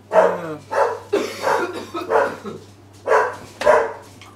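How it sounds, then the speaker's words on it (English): A dog barking sound effect plays as a run of about seven sharp, close barks in a quick, uneven rhythm over a low steady hum. "Sound effect of the dog."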